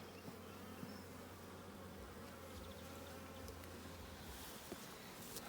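Honeybees in an apiary at Ballachulish during a June hive inspection, a dense continuous buzzing drone that holds steady throughout, close and even, with no voices over it.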